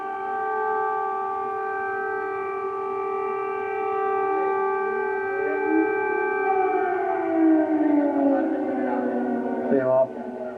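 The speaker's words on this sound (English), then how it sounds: "That's an air raid siren. Several of them going off here in the centre of the Ukrainian capital." Several air raid sirens wail together across central Kyiv, a loud steady rising-and-falling tone that holds throughout, with a pitch sweep near the end and a faint background voice underneath.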